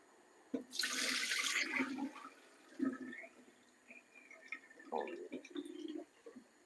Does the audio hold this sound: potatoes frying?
no